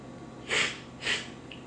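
Two short nasal sniffs about half a second apart, close and fairly loud against a quiet room, with a faint third breath at the end and no talking.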